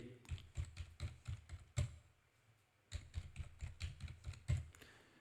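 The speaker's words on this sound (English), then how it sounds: "And now type the 17 digits" Someone types a string of digits on a computer keyboard: quick, close, clicky keystrokes in an irregular burst, a short pause, then another run of taps, all fairly quiet and without speech.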